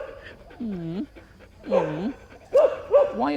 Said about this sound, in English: the others have just stood in the background having a good woof